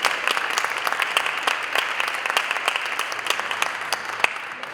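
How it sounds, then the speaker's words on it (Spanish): An audience claps throughout at a talk on craft beer paired with Mexican cuisine, a dense, even wash of applause with no one speaking over it. "Un fuerte aplauso nuevamente para ellos."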